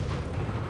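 T1 Cunningham light tank gun in World of Tanks Blitz, heard as a brief dense boom that fills the whole short moment with rumbling low noise.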